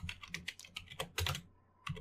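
Typing code on a computer keyboard: close, crisp key clicks in irregular quick bursts, a short pause, then a few more keystrokes.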